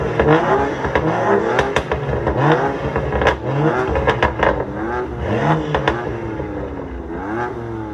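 A BMW M2 CS with a loud aftermarket exhaust revs close by in repeated rising and falling bursts, with crackles and pops between the revs.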